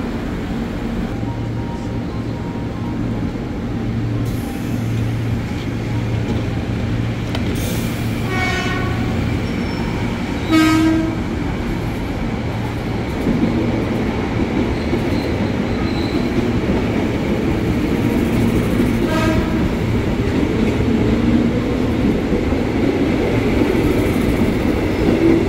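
A KRL commuter train, such as an ex-JR 205 or Tokyo Metro 6000 set, rolls into Duren Kalibata station with a loud, continuous rumble of wheels and carriages, several horn blasts, and some squealing from the wheels.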